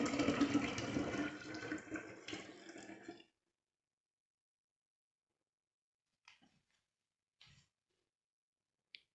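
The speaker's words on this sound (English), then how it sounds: "So I'm going to add 6 cups of water." Water pours steadily into a kombucha jar for about three seconds, then stops, leaving near silence broken only by a few faint drips and small clinks.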